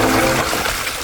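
A 3D-printed tire churns through water, throwing it upward in a continuous loud splashing and sloshing rush that fades slightly toward the end.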